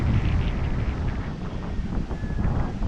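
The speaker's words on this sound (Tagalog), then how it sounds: "So ngayon may malakas naman ng hangin" Strong wind buffets the microphone with a constant low rumble and gusty roar, steady throughout with no voices.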